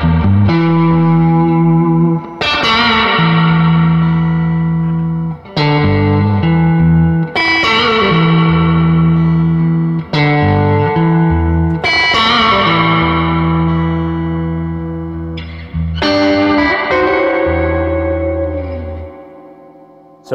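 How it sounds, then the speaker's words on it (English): Andrews Spectraverb 18 guitar amp with its reverb turned about three-quarters up, playing distorted chords that ring out into a long, washy reverb tail, struck in a rhythmic series of loud hits and sustained for about twenty seconds without voices. "I'll just let you hear the extent of how crazy that reverb can get"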